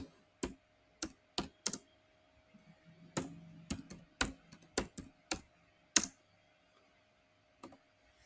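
Someone types on a computer keyboard: scattered crisp key clicks at an irregular pace, close and clear in a quiet room, with a short pause partway through.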